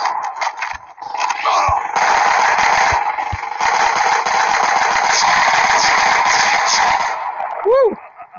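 Sustained gunfire from the Blitz Brigade video game, a loud dense stream of shots and explosions with game effects, a rising whine near the end.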